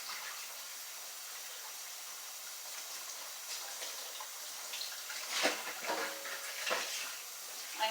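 Water runs and splashes unevenly from a kitchen tap, quiet at first and then louder with brief gushes near the end, as a container is rinsed out for recycling.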